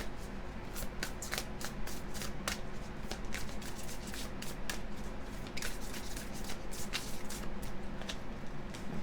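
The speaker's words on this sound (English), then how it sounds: "we're going to draw a card from my deck now." Oracle card deck shuffled by hand with a card drawn, soft continuous riffling and flicking of cards close up, with repeated crisp snaps over a quiet room and no talking.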